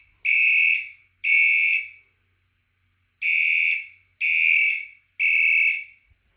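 Fire alarm system under test sounding a loud electronic horn in five even bursts, each roughly half a second long, two close together, a pause, then three more, with no voices.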